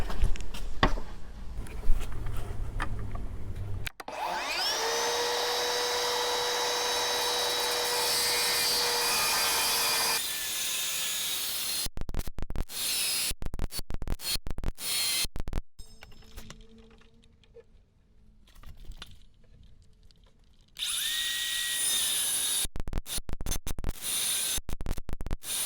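A power saw cuts hardwood timber for a character hardwood bench, following marked lines with the blade set to bite into a sacrificial top. A loud motor whine spins up and holds a steady cut, stops, then returns in a later burst.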